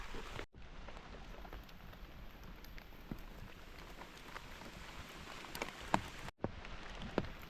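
Rain falls steadily on a forest trip hunting mushrooms in Phayao, Thailand, a soft constant patter with occasional louder drops, faint and without talk.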